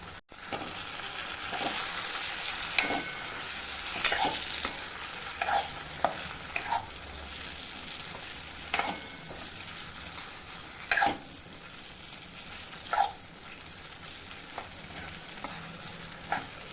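Cut boiled eggs frying in oil with pepper masala, a steady close sizzle under repeated stirring scrapes and clinks of a spoon against the pan, no talking.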